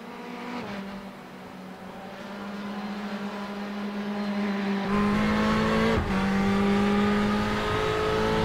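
Race cars in the iRacing sim at the Nürburgring drone past with rising and shifting engine tones, one engine note climbing and changing gear while others hum underneath, growing louder toward the end.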